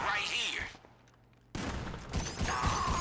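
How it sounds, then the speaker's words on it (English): Gunfire bursts and explosions from GTA Online's The Contract finale crackle loudly, break off into a brief quiet stretch, then resume as dense, continuous shooting with heavy low booms. "Now, a whole bunch of shooting and stuff happens, and stuff explodes."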